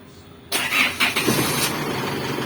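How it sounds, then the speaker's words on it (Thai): A car engine started by remote push-start smart key cranks and catches after a moment of near silence, then settles into a steady, loud idle close by. "เดี๋ยวสักครู่เขาก็สตาร์ทเครื่องของเขาเอง"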